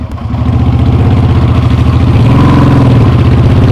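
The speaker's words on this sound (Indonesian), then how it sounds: "karena motor ini knalpotnya custom free flow, brother" A custom Kaisar Ruby 250 bobber motorcycle with a free-flow exhaust and no filter: a loud, close, throbbing engine rumble with rapid pulsing beats, rising slightly in pitch partway through.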